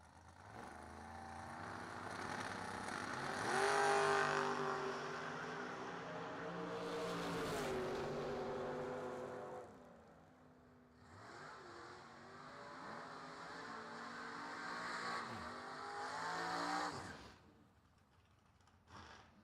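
A pickup truck and a Camaro roar down a drag strip side by side in a distant, sustained engine drone that rises, dips and rises again before fading, with no voices.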